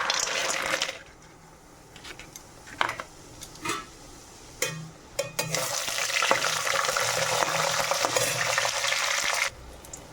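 Fulbadi and bahal leaf greens frying in hot oil, heard as bursts of sizzle broken by stirring clatter and utensil knocks against the pan, then a loud steady close sizzle, no talk.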